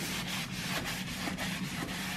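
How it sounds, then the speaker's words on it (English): Sandpaper rubs over a painted wooden baby crib in quick back-and-forth strokes, a soft, steady scratchy hiss with a faint rhythm, close by and quiet, with no voices. "We are now sanding it."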